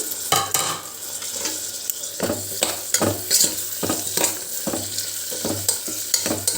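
Finely chopped tomato and green chillies sauté in a pan with a continuous sizzle, broken by repeated spoon strokes scraping and stirring in an irregular rhythm, close and fairly loud, no talking.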